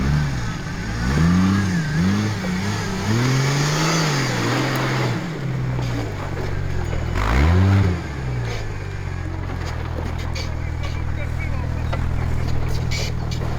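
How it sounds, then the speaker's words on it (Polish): A 4x4 off-road car engine revs hard through repeated rising and falling surges during an extreme off-road women's challenge, loud and close, with people talking over it. "Pałuję ten samochód, Chcę jak najszybciej przejechać."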